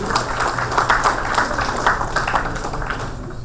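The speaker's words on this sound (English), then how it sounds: "Again, a round of applause for all of you." An audience at an annual general meeting open session claps steadily, a dense, sustained round of applause filling the room without pause.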